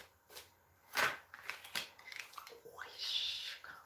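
Tarot cards are shuffled by hand in a few quick, close riffling and sliding bursts, with soft rustles between them and no talk.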